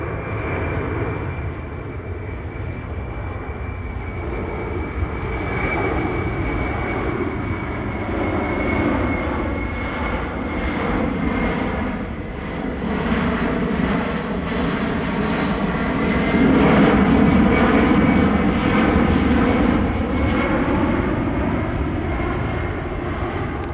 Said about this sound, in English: the aircraft we're about to see next, the Kawasaki C2